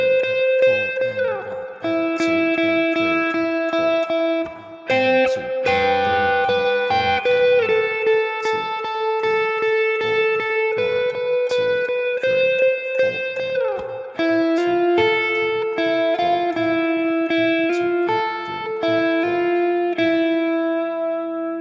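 An electric guitar plays the chorus lead of a song, a melodic line with sustained, bending notes over a steady background, continuous and fairly loud throughout.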